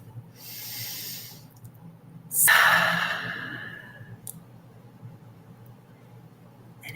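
One deep, airy breath is heard up close after a softer earlier breath, then quiet room tone follows.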